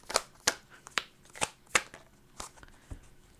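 A deck of tarot cards being shuffled before a single card is drawn: a series of crisp, close riffling snaps and slaps at an uneven, quick rhythm, fairly quiet.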